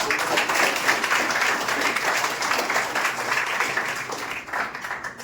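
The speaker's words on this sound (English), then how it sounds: "Just once clap for all the participants." Classroom students clapping together for all participants at an English-language academy, a steady, dense round of applause lasting throughout, fairly loud and close with no talking.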